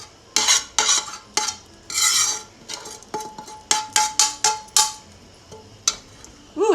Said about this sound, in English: Now I'm going to use a spoon to get all this good cabbage and shishito peppers and all this deliciousness right on top.